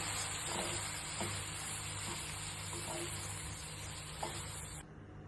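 Red pumpkin dry curry being stirred in a pan, a steady close sizzle with soft scraping strokes running throughout before cutting off near the end.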